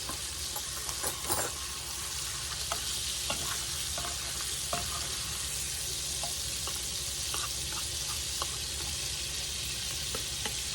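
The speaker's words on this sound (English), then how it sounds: "Now my butter's melted good enough for what I want." Melted butter sizzles steadily in a pan while shrimp alfredo is being made, a continuous frying hiss broken by occasional clicks and scrapes of stirring, fairly close and with no voices over it.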